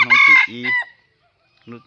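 A white rooster crows loudly and close by, a long harmonic cock-a-doodle-doo lasting nearly a second, followed by silence and then a short clucking call near the end.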